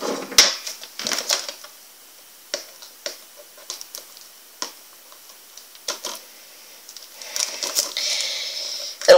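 Crinkly plastic wrap being peeled and torn off a horror movie DVD case, with scattered sharp crackles and ticks in short bursts, fairly close and moderately loud, with no talking.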